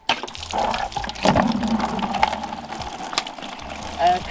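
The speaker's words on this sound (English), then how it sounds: "So we need to empty the bladder of water now." Water gushing fast out of a disconnected apple press bladder, a steady splashing pour over about four seconds with a brief surge near the end, heard close with a voice speaking over it.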